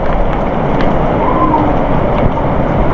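Heavy typhoon rain pours down in a steady, loud, unbroken hiss with no voices.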